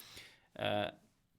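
Muted acoustic guitar strings strummed once in a short percussive burst, close and fairly loud, with faint scratchy handling before it.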